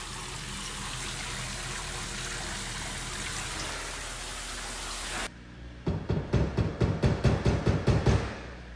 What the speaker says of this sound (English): This shower's been running for about 3 minutes.